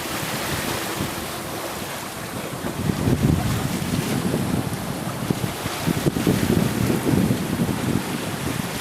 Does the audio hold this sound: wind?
yes